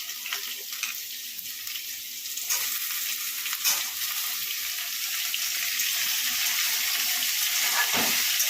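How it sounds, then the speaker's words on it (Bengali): Taro pieces frying with potato and pumpkin in a pan, a bright continuous hiss that swells slightly louder, with a couple of brief stirring knocks and no speech. "তারপরে কচুগুলো দিয়ে দিলাম, ওগুলো মিশিয়ে একটু ভেজে নেব।"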